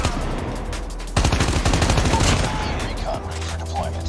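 Rapid automatic gunfire in the Call of Duty Mobile video game, loud close bursts of quick shots, with a speaking voice faintly underneath.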